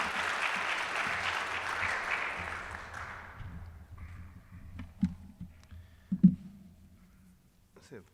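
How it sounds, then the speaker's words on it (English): Applause for a guest speaker at a Rotary Club meeting fills the first three seconds and then fades out, followed by a quiet room with scattered soft knocks and handling sounds. "So just want to ask that you give Bobby a big round of applause."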